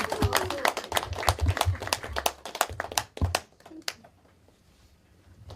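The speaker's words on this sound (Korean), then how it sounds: "박수가 나와야 됩니다." An audience at a members' and guests' introduction event claps in a dense burst of applause close by for about three seconds before it fades into quiet murmuring.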